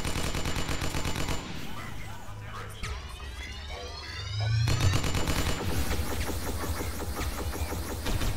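Rapid gunfire from the video game Satellite Reign, with repeated shots and bursts in a busy cacophony that stays loud through most of the clip, including a sustained low rumble near the middle.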